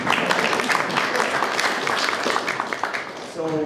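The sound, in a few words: audience clapping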